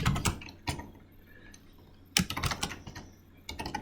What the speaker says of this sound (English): I type like this: print